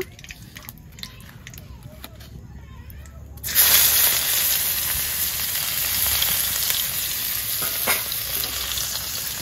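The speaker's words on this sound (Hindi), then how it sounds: "से सोयाबीन तेल रे एबे पकेबा पियाज।" Onions dropped into hot soybean oil, a sudden loud sizzle bursting in after a few quiet seconds and holding as a steady, close crackle with occasional stirring.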